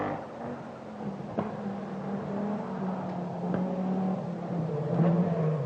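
A 170-horsepower Audi rally car at the 1986 Lombard RAC Rally drives past with a steady, moderately distant engine drone that rises slightly as it builds speed.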